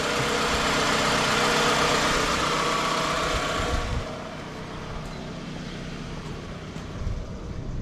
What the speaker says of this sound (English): It's slowed down on its idle.